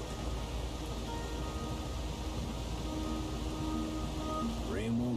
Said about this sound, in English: Rain won't quit, will it